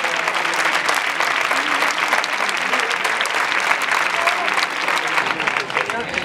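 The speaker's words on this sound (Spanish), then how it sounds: "fuerte el aplauso para todos los que han hecho posible que esta tarde estemos aquí" A crowd at a bullfighting recortes contest in Aldeadávila gives loud, steady applause that lasts the full six seconds without a break.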